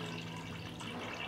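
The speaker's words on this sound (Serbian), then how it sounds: "Sipat ću vodu do visine poklopca." Water poured from a kitchen tap or vessel into a pot holding jars on a cloth for pasteurizing, a soft continuous splashing and filling sound, faint and close, with no talking.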